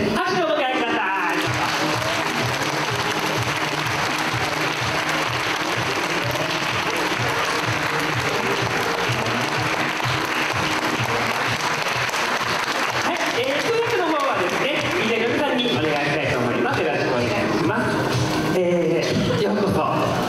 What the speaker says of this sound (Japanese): 拍手をお迎えください